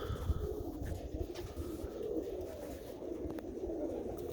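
Several pigeons coo in a cluttered home loft, soft rolling coos repeating steadily and close by over a constant low background rumble, with no talking.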